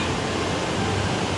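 A large river rushes beneath an old bridge, a dense, loud, unbroken roar of flowing water filling the short moment without any voices.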